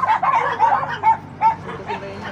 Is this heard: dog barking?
yes